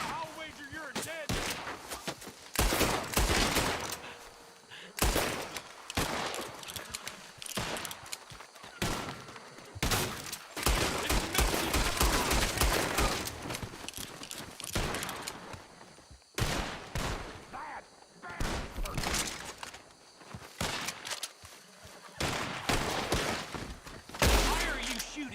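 Gunfire in the video game Red Dead Redemption 2, with repeated sharp shots and bursts arriving in irregular clusters over about twenty-five seconds, some loud and close, others fainter.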